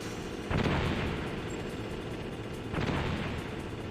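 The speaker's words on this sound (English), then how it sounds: "Grenade out." Two booming grenade blasts in Metal Gear Solid, each a broad burst with a rumbling tail, spaced a couple of seconds apart over steady game background noise.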